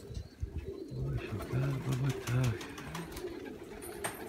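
Pigeons cooing in a loft, a series of soft low coos close by, with someone talking over and around them.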